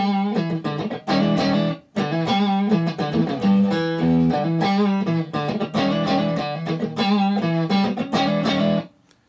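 Electric guitar played through Zexcoil neck pickup on a Rhinehart S-style body, bright chords and single notes strummed in rhythmic bursts with slight distortion, close and loud, no talk.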